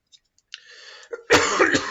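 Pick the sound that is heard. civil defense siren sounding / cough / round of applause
cough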